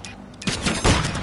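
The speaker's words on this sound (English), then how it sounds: "He's shooting me." Call of Duty MW3 multiplayer gunfire cracks out in two loud, sharp volleys about half a second apart, with a softer rattle between them and no talking.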